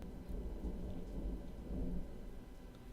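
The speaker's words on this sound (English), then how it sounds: "It's raining outside and there was a lot of thunder" Thunder rumbles low and steady outdoors while rain falls continuously, heard faintly from indoors with the rumble swelling and fading across the moment.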